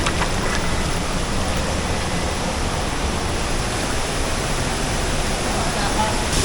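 Steady roar of falling water at Mayang Falls in Trece Martires, Cavite, a dense broadband rush that stays loud and even throughout with no clear speech over it.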